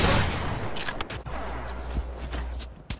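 Rapid bursts of video game gunfire crackle in quick succession, loud and close, with sharp transients over a busy background during an online shooter match.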